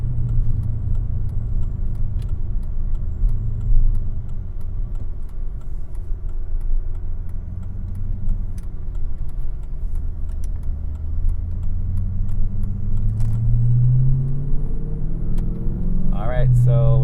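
Dodge Magnum SRT-8, bagged and supercharged, heard from inside as a low, steady engine rumble under continuous talk, with a brief rise near the end.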